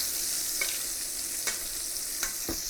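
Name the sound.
short rib browning and sizzling in butter in a pan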